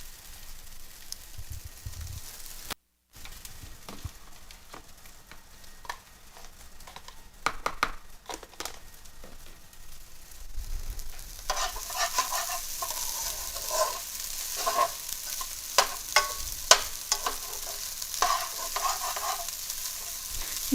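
Rice frying in garlic butter over medium-high heat for Mexican rice, giving a steady close sizzle with scraping stirs that grows louder and busier partway through, with no talk.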